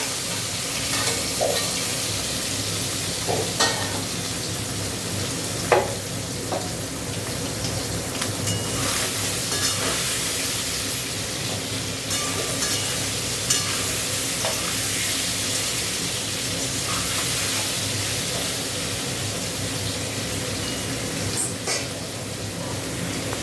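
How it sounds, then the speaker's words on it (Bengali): Soybean chunks fry in a hot pan while being stirred, a constant close sizzle broken by occasional scraping clinks of the spoon, loud and unbroken with no one talking. "সোয়াবিনটা ভেজে নেব।"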